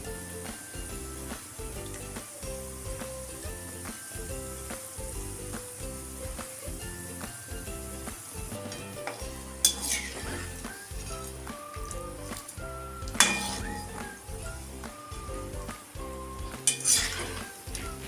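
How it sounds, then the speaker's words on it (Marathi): Coconut slices sizzle steadily in hot oil, frying until golden, with occasional metallic clinks and scrapes of a utensil stirring the pan. "आपण खोबरंसुद्धा गोल्डन रंग येईपर्यंत तळणार आहोत"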